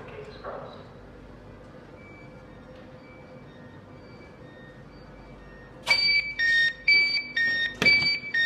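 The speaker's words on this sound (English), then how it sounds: "Got door chimes." Inside a train between Doncaster and Newark Northgate, a quiet rumble gives way to a series of loud, repeated electronic chimes and beeps from the doors, close by and insistent.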